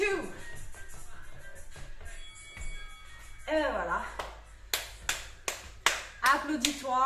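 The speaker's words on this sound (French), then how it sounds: "Applaudis-toi." Several sharp hand claps land near the end of a home cardio workout, short bursts with a spoken voice running through, following a stretch of breathing and background sound.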